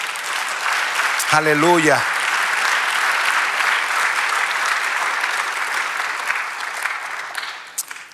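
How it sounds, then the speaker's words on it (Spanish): A church congregation applauds during a Spanish-language sermon, with sustained, dense clapping throughout. A voice briefly calls out over the clapping early on, and the applause tapers near the end. "Dale otro aplauso."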